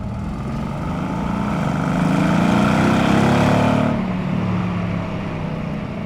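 A Mercedes-AMG GT S engine roars steadily from close by, swelling louder for a couple of seconds before easing back. No voices are heard.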